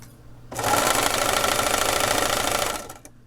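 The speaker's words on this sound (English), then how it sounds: "So I'm going to start on one side. Back stitch." A sewing machine runs a continuous, loud, even burst of stitching for about two seconds as a drawstring bag seam is back-stitched, then stops, with no talk over it.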